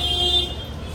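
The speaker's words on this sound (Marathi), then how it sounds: "हा ट्रॅफिक दादर आहे हे, ट्रॅफिक तर असणारच." Heavy street traffic in Dadar, Mumbai, with a sustained car horn tone sounding over a low rumble of engines, then fading into the steady roadway din.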